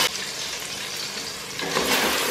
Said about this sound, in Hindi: जिस ऑयल में मैंने प्याज फ्राई की थी उसी ऑयल में आप आलू भी फ्राई कर लेंगे।